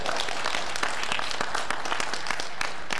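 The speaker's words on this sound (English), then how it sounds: "I like that clapping for Murray" Audience clapping at a talk, a steady dense patter of many hands with no voices over it.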